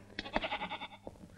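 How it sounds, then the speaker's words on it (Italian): A goat bleats once in a short, wavering call lasting under a second, close and fairly clear over a quiet background. "La capra di compagnia."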